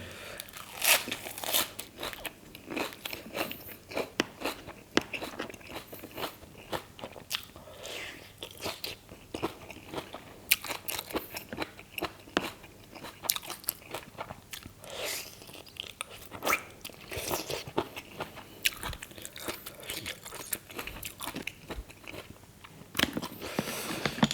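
Red cockles eaten with crisp kale give close, loud crunching bites and chewing, repeated in irregular bursts throughout with no talk.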